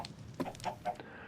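Chickens cluck in a building game, a few short close clucks in quick succession with no talk.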